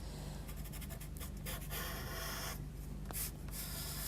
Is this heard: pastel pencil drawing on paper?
yes